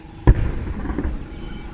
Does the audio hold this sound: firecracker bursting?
yes